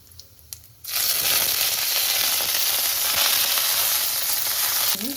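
Cumin seeds and green chillies hit hot oil in a pan, a sudden loud, steady sizzle that bursts in after a quiet second and holds strong to the end.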